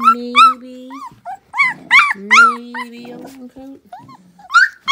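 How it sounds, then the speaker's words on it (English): Young puppies, about three weeks old, make high whimpering yips and low growls in short repeated bursts, with a person talking over them. "He was growling."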